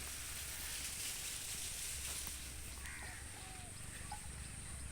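Crows caw faintly in the distance beside a village road, a few brief calls rising over a steady hiss of outdoor background noise.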